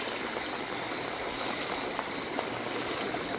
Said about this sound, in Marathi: पाणी लई साज प्रेशरशी वाहतंय